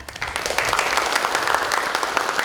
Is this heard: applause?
yes